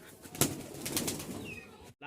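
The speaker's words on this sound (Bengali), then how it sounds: "লাল এক জোড়া কবুতর," Red pigeons at a pigeon market in Mirpur-1, Dhaka, giving low throaty coos in a few soft pulses close by, with a brief flutter and faint background noise.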